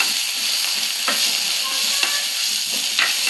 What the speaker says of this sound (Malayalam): വെണ്ടയ്ക്ക ഉള്ളി നന്നായിട്ട് ബ്രൗൺ കളറാകണവരെ ഒന്ന് വഴറ്റി കൊടുക്കുക.